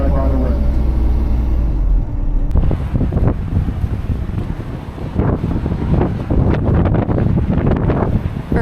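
Strong wind in Wellington, New Zealand roars and buffets the microphone in loud, continuous gusts with deep rumbling, steady throughout.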